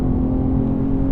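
Infiniti G37 Coupe with aftermarket intake and exhaust and an uprev tune, its engine holding a steady, droning idle-like hum, close and continuous for a brief moment.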